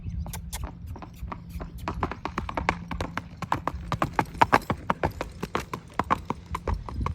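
Rhythmic clip-clop of a 16-hand Quarter Horse gelding's hooves in a steady three-beat lope, close and clear, with a quiet voice now and then.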